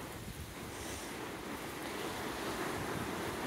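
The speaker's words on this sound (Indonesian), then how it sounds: "Anginnya kenceng banget, teman-teman." Strong wind blowing over waves in bad weather, a continuous roar of surf and gusting air with wind buffeting the microphone, steady and fairly faint, without any speech.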